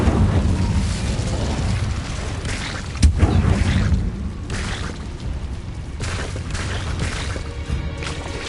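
Fiery spell blasts in Hogwarts Legacy deep inside a cave: a dense, roaring rumble with a sharp boom near three seconds, continuing as a steady loud crackling whoosh throughout.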